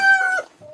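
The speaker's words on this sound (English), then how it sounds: "There's a rooster." A rooster at an animal hoarding property crows once, close and loud, its harmonic call held briefly before breaking off, followed by a short softer cluck.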